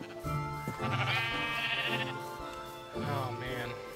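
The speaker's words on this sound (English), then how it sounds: "Ooh, there's a sheep." A sheep in Minecraft bleats twice, two drawn-out wavering cries separated by a short pause, close and clear.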